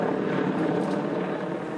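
Helicopters fly overhead in war-damaged eastern Mosul, making a continuous low rotor drone that holds at a steady, fairly loud level through the short stretch.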